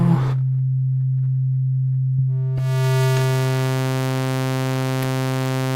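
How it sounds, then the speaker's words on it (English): A synthesizer played from a MIDI controller setup holds a pure, steady low sine tone, then a brief click brings in a brighter, buzzier tone rich in overtones that sustains with the sine underneath. "So that's a sine wave right now."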